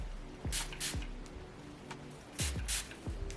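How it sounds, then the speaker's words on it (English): Short hissing bursts of a leave-in scalp spray bottle, in two quick pairs separated by a pause, close by and fairly soft, with faint low thumps. "So I'm just gonna spray this all over, just focusing it on my scalp"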